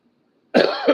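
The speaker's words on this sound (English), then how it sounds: "I'm coughing up stuff" A single harsh cough, close and loud, in two quick bursts after a moment of near silence.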